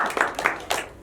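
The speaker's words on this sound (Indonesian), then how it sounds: "Tepuk tangan dulu ya." An audience claps in a few short uneven bursts, fairly close, with voices mixed in during a talk session.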